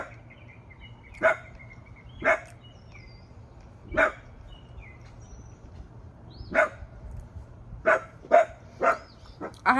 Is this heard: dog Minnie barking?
yes